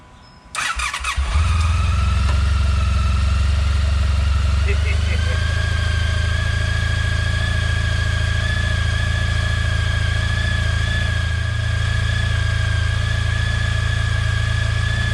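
A Honda ST1300 motorcycle with a fuel leak cranks and fires up after a brief quiet moment, then settles into a loud, steady close idle with a constant low rumble and whine.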